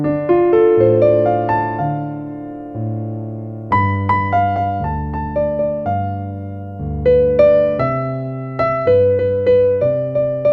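Bossa nova jazz piano plays a steady syncopated chord accompaniment under a melodic solo line in the right hand, with continuous, gently rolling notes, moderately loud and unaccompanied by voices.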